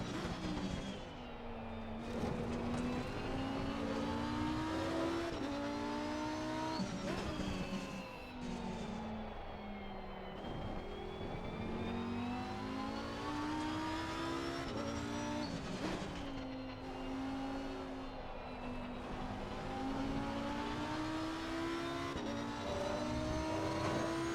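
A Lamborghini Huracan Evo race car in a racing video game, its engine revving steadily through repeated gear changes and rising and falling pitch, loud and continuous, with no talk.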